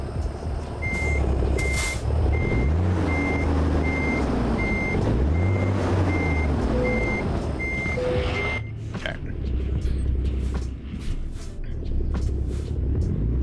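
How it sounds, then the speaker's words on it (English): A truck in American Truck Simulator backs up with a steady run of evenly spaced, loud reversing beeps over a low engine rumble, then a sharp hiss like an air brake. "It's gonna be some loud beeping."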